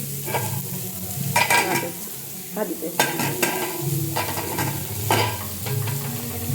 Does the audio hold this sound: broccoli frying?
yes